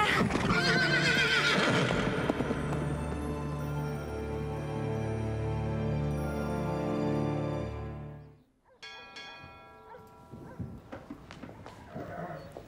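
A cartoon horse, a scary-looking mysterious ghost horse, gives a loud, long neigh over rapid galloping hoofbeats, then the sound drops away and softer hoof clatter and other sounds follow.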